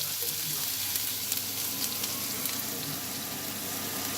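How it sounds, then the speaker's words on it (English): Chopped onion sizzling and frying in hot oil in a pan for a green beans curry, a steady close crackle and spatter with no talk. "Now I'm going to add my onion."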